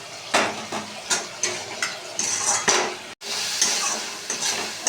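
A spice paste is stir-fried in a pan, with a loud, close sizzle and repeated scraping strokes of a spatula against the metal, the hiss swelling after a brief pause.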